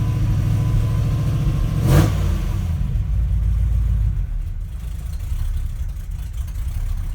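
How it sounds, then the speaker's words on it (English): A 1971 Ford crew cab's rebuilt 352 FE V8 idles with a noticeable lumpy cam rhythm, loud and close; a brief rev swells early, then the steady uneven idle settles and continues. "It has a fairly noticeable idle with that cam."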